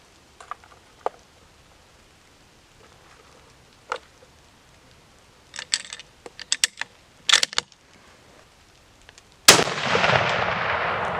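A 300 Win Mag reload fired from a rifle: one loud, sharp report with a long rolling tail closes the clip, preceded by scattered mechanical clicks and clatter of handling the rifle.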